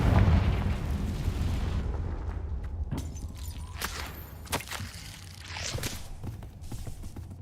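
A Confringo blasting spell goes off in Hogwarts Legacy, a deep rumbling boom followed by crackling bursts and debris-like pops, loud and close, then settling into a sustained low roar.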